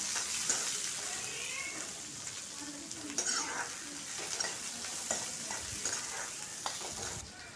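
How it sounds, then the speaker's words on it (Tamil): Small and large onions sizzle lightly in a pan for a greens stir-fry, a steady hiss of frying with occasional spatula scrapes and crackles. "அப்படியே லேசாக வறுத்து எடுக்கணும்"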